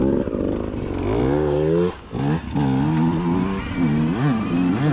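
A dirt bike engine revs up and down on a trail ride, its pitch climbing and falling in several loud, close sweeps with a brief dip before rising again.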